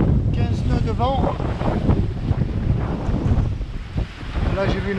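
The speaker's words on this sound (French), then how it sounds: "Il y a 15 nœuds de vent." Strong wind of about 15 knots buffeting a microphone on a sailboat at sea off the West African coast, continuous loud rushing gusts with water and hull noise, a voice briefly audible.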